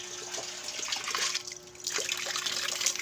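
Filtered deep well water runs steadily from a tap in Los Baños, Laguna, a close, continuous splashing trickle with small surges and no talk.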